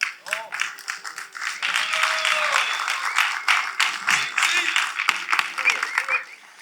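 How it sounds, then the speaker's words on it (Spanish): Audience at a men's church gathering applauds a member, uneven clapping and cheers rising and falling with voices calling out throughout. "quiero que le den un aplauso"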